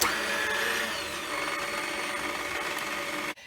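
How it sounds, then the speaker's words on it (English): A stand mixer kneads bread dough on low speed, a steady close motor whir with a light rattling texture that drops briefly before a sudden cut-off near the end. "you're going to let it mix on low for 1 minute"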